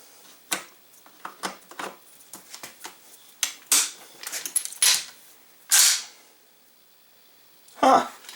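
Metal clicks, snaps and clacks of an M1 Garand rifle being put back together by hand, irregular sharp knocks up close with a few louder bursts.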